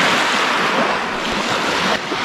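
Small waves wash onto a lake beach at Lake Buško in Bosnia and Herzegovina, a continuous broadband rush of water mixed with wind buffeting the microphone.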